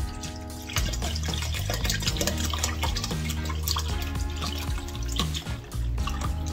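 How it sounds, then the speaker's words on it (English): Tap water runs into a container for a pickled jalapeño brine, a loud and steady gushing stream with a rising, ringing tone as it fills and no talking over it. "So I'm gonna fill it up with water and then add that to the mix."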